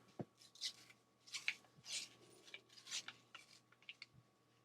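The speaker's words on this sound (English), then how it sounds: "Peel that open with a scissor." Scissors snipping and peeling open a paper roll of quarters, a series of short crisp cuts and rustles close by with brief pauses between them.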